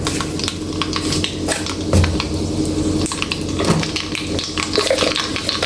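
Mustard seeds sputter and crackle in hot coconut oil in a pan, a close, continuous spattering with frequent sharp pops.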